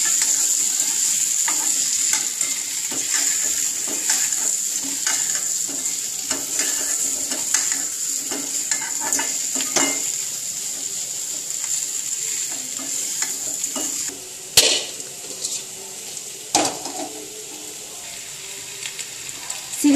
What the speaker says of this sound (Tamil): ஒரு ரெண்டு ஸ்பூன் சாம்பார் பொடி, இதை சின்ன அடுப்பில் போட்டு நல்லா வறுபடா வைப்போம்.